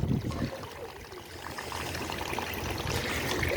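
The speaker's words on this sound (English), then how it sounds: "This way is being destroyed by shit water, by wasting water." Waste water runs down a street in Valparaíso with a steady broadband wash and trickle, moderately loud and continuous, with outdoor background noise mixed in.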